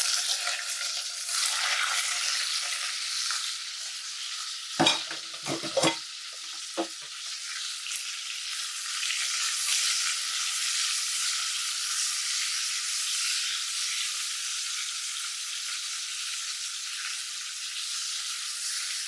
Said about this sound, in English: Now, we're going to add the onions and the peppers to the Dutch oven. We're going to saute the vegetables up together.